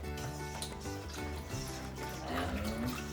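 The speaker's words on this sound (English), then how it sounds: "So put our beef stock in." Beef stock pours into a pan of Swedish meatball sauce with sour cream, a soft trickling and splashing of liquid, faint and close, with no talk.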